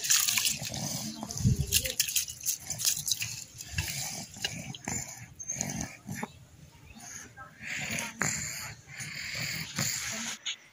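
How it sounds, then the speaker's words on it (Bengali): Water poured into raw rice in a village kitchen, a splashing, gurgling rush that comes in uneven bursts over about ten seconds, mixed with background clatter and other household noise. "এবার আমি চালের মধ্যে দিয়ে দেব পানি।"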